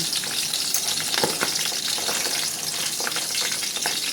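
Fish frying in hot oil in a pan, a steady loud crackling sizzle with scattered sharper pops throughout, close by and without any talking.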